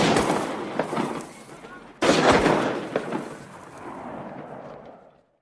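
Gunfire in a Holocaust film scene about Nazis shooting Jewish workers: two loud sharp shots with rolling reverberant echoes, the second strongest, fading out, with a voice talking underneath.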